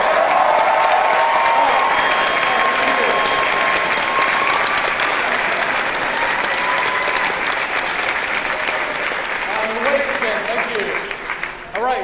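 A large audience at a San Diego Comic Con 2014 Witcher panel breaks into sustained, dense applause with some cheering, loud and continuous before thinning near the end as a voice begins speaking.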